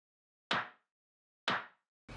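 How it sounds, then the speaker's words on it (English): A clap sample processed with reverb for a lo-fi house beat, struck twice about a second apart, each hit with a bright burst and a short reverberant tail, then a third hit beginning at the end; nothing else is heard between the claps. "But what I did was I added this reverb,"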